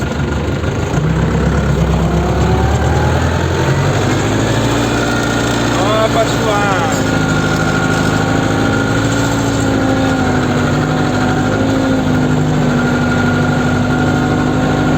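Engine of an Orion 24 vehicle running under load while pulling a dump trailer built for a DongFeng truck, a loud, steady rumbling drone throughout, with people talking over it.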